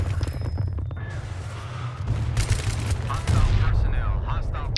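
Gunfire in the video game Battlefield 3, with bursts of rapid shots and booms over a heavy low rumble, dense and continuous, growing louder toward the end.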